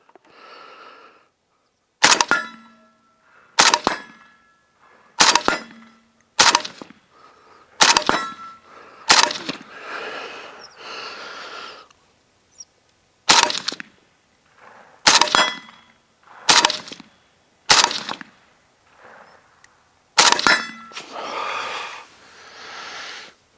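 Suppressed Zastava rifle shots fired offhand, a dozen sharp cracks spaced every second or two, each followed by a short ringing tail, close and loud with quiet gaps between them.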